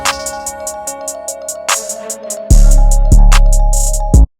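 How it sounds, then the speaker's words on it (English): Rapid hi-hat ticks pulse over a melodic trap loop in an FL Studio beat, with gaps where hits drop out, before booming 808 bass notes enter halfway. The mix is loud and instrumental, ending in a sudden stop. "Same with the hi-hat, sounds like this."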